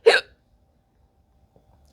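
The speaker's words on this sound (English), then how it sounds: "That hiccup, it really hurt." A single sharp hiccup, loud and close, followed by near silence.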